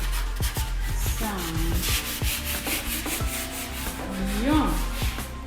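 A wooden table is sanded by hand in steady back-and-forth rubbing strokes with a gritty scratch, close by and moderately loud, while quiet voices murmur in the background.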